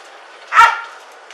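A police dog gives a single loud, close bark during an arrest after a highway police chase, standing out over a low background hum.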